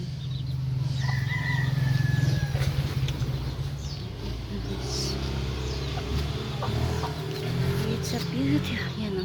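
A rooster crows and hens cluck in the background of an outdoor scene, with a steady low hum and some speech-like murmur.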